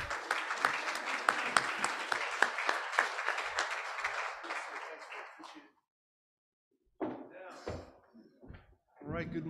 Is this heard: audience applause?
yes